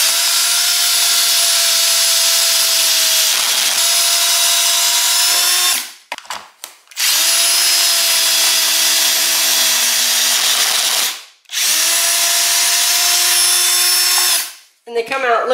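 A screw gun spins a bit in loud, sustained whirring bursts, with two short pauses where the motor stops and restarts, and a brief cutoff near the end.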